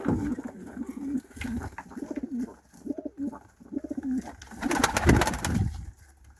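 Turkish Takla pigeons coo close by in soft, repeated throaty phrases, with a brief flutter or rustle near the end.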